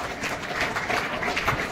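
Applause fills a school retirement ceremony, a dense, even patter of many clapping hands at moderate loudness for the short span.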